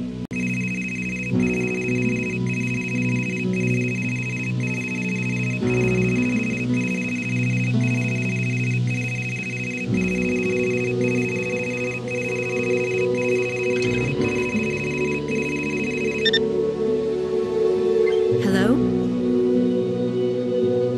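Telephone ringing in the point-and-click adventure Gray Matter: a repeating electronic ring in regular bursts, loud and close, that stops partway through, with talking underneath and afterward.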